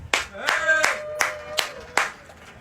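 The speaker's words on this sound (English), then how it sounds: "Smattering of applause." A thin smattering of applause at a live radio broadcast from the fair: five separate, evenly spaced hand claps, close and crisp, with no crowd swelling behind them.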